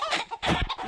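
A Roblox video game chicken clucks in a few quick, choppy bursts, close and moderately loud, over less than a second with no voices.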